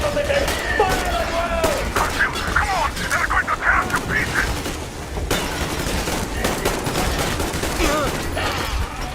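Gunfire from the Metro Exodus video game crackles in dense, rapid bursts and volleys throughout, loud and close, while someone shouts over the shooting.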